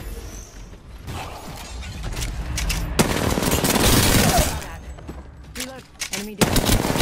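Automatic weapon fire from Apex Legends rattles in bursts, with a dense stretch of rapid shots in the middle, mechanical clicks and reload clatter around it, and game voice lines heard briefly.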